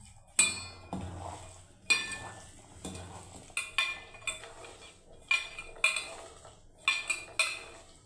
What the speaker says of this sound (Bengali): ভালো করে মিশিয়ে নিচ্ছি বন্ধুরা।